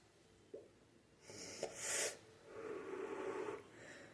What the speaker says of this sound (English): I'm breathing it out, right?